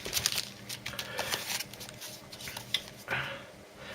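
Empty plastic packaging bags rustle and crinkle as hands rummage through them inside a box during an unboxing, with close, continuous crackling bursts and no talk.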